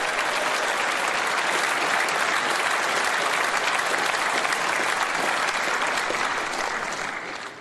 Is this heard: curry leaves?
no